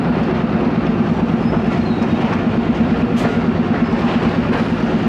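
The Ravi Express passenger train pulling into Warburton railway station in Pakistan, a loud steady rumble with rhythmic clickety-clack of wheels over rail joints and a brief squeal near the end, close by.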